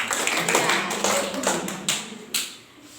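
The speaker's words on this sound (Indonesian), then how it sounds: "Tepuk tangan buat Tian." A short burst of scattered hand claps from a small group of students in a primary school classroom, irregular and close, fading out after a few seconds.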